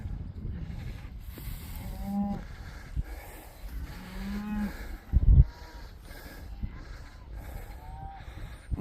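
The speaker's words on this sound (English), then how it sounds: "And cows keep coming back to that scratcher." Cattle in a farm field low repeatedly, several moos spread over the stretch, fairly near, with a sharp knock partway through and faint background noise.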